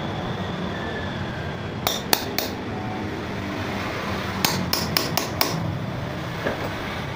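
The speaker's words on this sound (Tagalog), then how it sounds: "Tapos yung butasan naman natin ng maliit na pambutas para doon sa tornilyo." A small hole punch is hammered through a rubber bushing to make a screw hole, giving sharp metallic taps: a pair near two seconds, then a quick run of five more around four and a half seconds, over steady workshop hiss.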